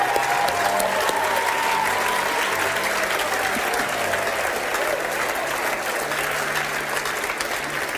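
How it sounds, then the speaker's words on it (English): A congregation claps together at a prayer and fasting church service, a dense sustained wash of applause running loud and steady throughout with no pauses. "I want us to clap all the claps for this week."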